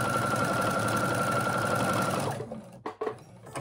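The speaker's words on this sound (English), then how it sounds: "sewing those, top stitching the zipper again." A sewing machine runs at steady speed, top stitching along a zipper on a fabric storage pouch for stuffed toys. The close, even motor whir carries for about two seconds, then stops, leaving a few faint handling sounds.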